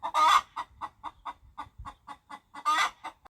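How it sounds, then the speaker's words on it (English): A hen clucking in a series of short, evenly spaced clucks, with two louder, drawn-out squawks at the start and end. Close and clear, with no talk over it. "H for hen."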